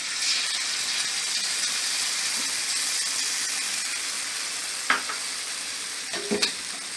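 Sauce added to a hot pan of chilli chicken, giving a constant close sizzle with a few soft stirring knocks and clinks toward the end.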